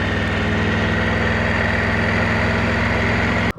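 A Triumph Tiger 900 Desert Edition motorcycle fitted with a road-legal Akrapovic exhaust idles loud and close, with a steady, throbbing low rumble that holds evenly before cutting off abruptly near the end.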